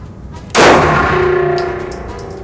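A single loud SCCY pistol shot cracks sharply, then leaves a long ringing, echoing decay that fades over about two seconds, with no talk.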